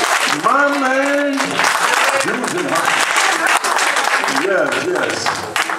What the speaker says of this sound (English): Give a round of applause, Mr. Bill.